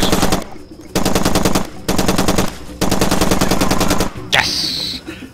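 Loud sustained machine-gun fire from a weapon shot from the hip in Far Cry 2, coming in four long rapid bursts separated by brief pauses, with a short sweeping sound near the end.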